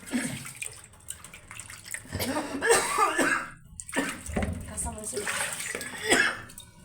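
Several harsh coughs and throat clearing from chili fumes come close up, mixed with splashing water and some talk.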